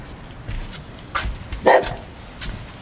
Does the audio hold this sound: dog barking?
yes